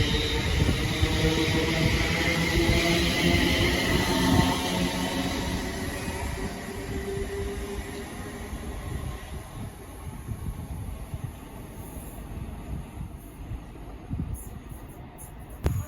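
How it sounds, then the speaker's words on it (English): A London Northwestern Railway passenger train pulls out of a station on its way to London Euston, a loud rumbling roar up close that gradually fades as it moves away, with insect-like chirping in the background. "departing now is the 1502 London North Western Railway service to London Euston"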